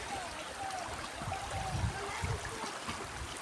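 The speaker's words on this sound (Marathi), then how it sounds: "पाणी पण किती स्वच्छ आहे बघा आणि वाहतं पाणी आहे" Clear flowing water from a stream used for washing clothes outside a village home, a steady rushing wash with a few louder surges, no speech.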